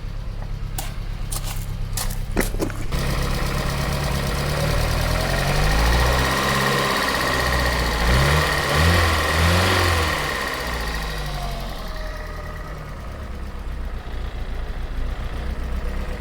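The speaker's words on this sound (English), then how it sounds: "That engine sounds really good" A cold Austin Allegro 1500 Special idles with a steady, close mechanical rumble. Irregular tapping knocks come at the start, and the engine's pitch wavers and swells through the middle before settling.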